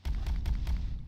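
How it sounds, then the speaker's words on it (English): Explosion in the video game Boulder Dash, a burst of several rapid deep booming thumps run together, loud and close, with no speech. "Explosion."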